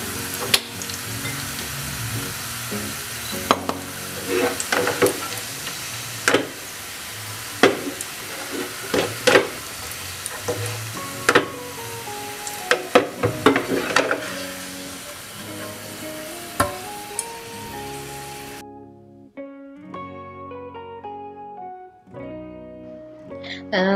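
Sliced onions fry and sizzle in ghee on a stove for a fish biryani, with frequent sharp scraping and clinking of a spoon stirring through the pan; near the end the frying stops and music plays alone.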